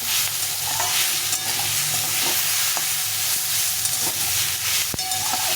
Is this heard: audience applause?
no